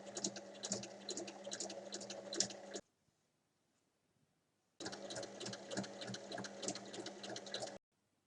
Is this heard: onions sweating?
no